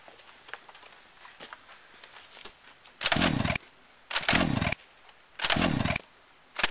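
Three loud bursts of a revving chainsaw from the video game Gears of War, each about half a second long with short gaps, over a quieter background of scattered clicks and shuffling.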